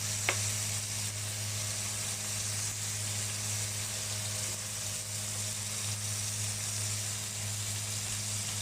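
Mung beans and shrimp paste sauté in a pan with a steady, close sizzle, a brief sharp crackle at the start, then an even frying hiss throughout.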